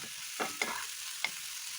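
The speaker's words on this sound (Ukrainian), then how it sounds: "Сильно не засмажуємо, припустимо трішки, тому що в духовці воно ще буде смажитися в нас." Onions and mushrooms lightly frying in a pan, with a few short stirring scrapes against a steady low sizzle, close and fairly quiet, no talking.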